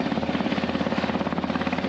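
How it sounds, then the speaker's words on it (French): An Irish rescue helicopter passes overhead, its rotor producing a steady, loud, rhythmic chop with a continuous low engine drone throughout. "Un hélicoptère de sauvetage irlandais est venu nous rendre visite."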